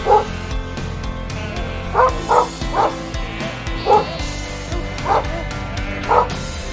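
A herding dog on a farm lets out a series of short, sharp barks and yips at irregular intervals, fairly close, over a low rumbling background.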